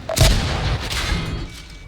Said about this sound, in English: We got hit by the 416.